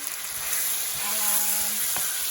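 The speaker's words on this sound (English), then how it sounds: "So we'll stir fry the beef." Beef seasoned with Shaoxing wine, salt and white pepper fries in a hot wok of oil, giving a steady close sizzle with faint stirring scrapes.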